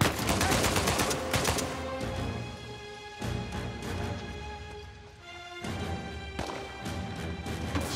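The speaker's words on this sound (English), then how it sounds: "Sully's still shooting something." Gunfire in the video game Uncharted 4 comes as dense volleys of loud, sharp shots and impacts in bursts, with a quieter lull midway before the firing resumes.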